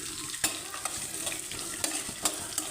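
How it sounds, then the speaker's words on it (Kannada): Onion and garlic fry in a pan for mint chutney, a steady close sizzle with a few sharp clicks of a spatula stirring through it. "ಎಲ್ಲ ಕಲರ್ ಚೇಂಜ್ ಆಗೋ ತನಕ ಫ್ರೈ ಮಾಡ್ಕೊಳ್ಬೇಕು"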